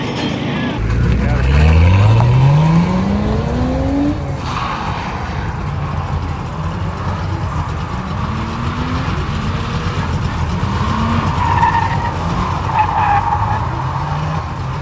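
A Nissan 240SX drifting on a skid pad, its engine climbing in pitch through a rev sweep, then sustained loud engine drone with tire scrub as the car slides continuously at close range.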